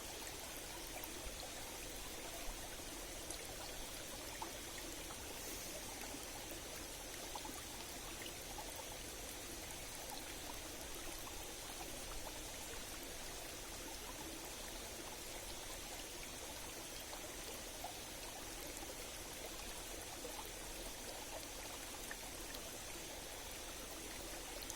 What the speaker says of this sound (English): pick out each of the individual streams that I talked about leading to this three-way intersection